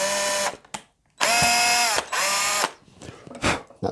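A power drill bores a 3mm hole through a guitar pickguard in several short whining bursts of a second or less, with brief pauses between them.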